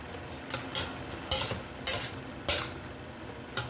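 Vegetables being stirred in a sizzling pan for Filipino ginisang gulay, a steady fry hiss broken by about six sharp scraping strokes of a spoon at irregular intervals, close and clear with no voices.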